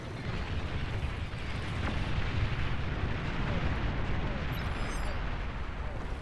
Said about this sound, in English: We got a bombing run, just took out yellow.